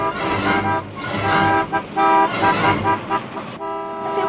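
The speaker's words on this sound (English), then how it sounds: "what's that chap honking his hooter for?" A car horn honks in loud, harmonic bursts, several toots in an uneven rhythm, up close and alone with no talk over it.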